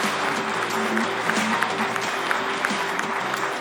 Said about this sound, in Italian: facciamo l'applauso a tutta la squadra